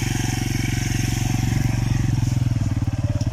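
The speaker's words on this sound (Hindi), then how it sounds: "रिवर जी इंतहाई चिकनी मिट्टी और यहाँ पर बड़ी मुश्किल से बाइक चल रही है।" A motorbike putters slowly through very slippery clay mud on a rough rural track, its engine thumping in an even, rapid rhythm that swells slightly near the end, close and loud with no talk.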